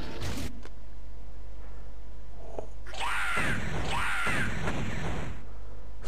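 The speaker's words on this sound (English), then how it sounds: "Screaming and yelling by a bird thing." A bird-like enemy in the Megaman Zero video game lets out two harsh, rising cawing screeches, loud and close, over a constant low game hum with a few mechanical clicks before them.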